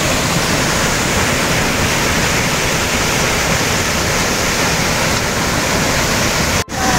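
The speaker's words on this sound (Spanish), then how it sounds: "hemos llegado a la cascada chica" Small waterfall at Salto Mili Mili pours in a loud, steady broadband roar of rushing water, constant and close with no voices, briefly cut by a single dropout near the end.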